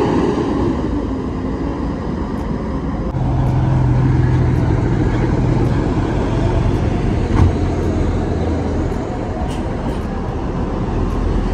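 Buses stuck in a traffic jam outside Terminal Jati Kudus, a steady loud rumble of idling and slowly moving engines with road noise throughout, a low engine drone rising midway.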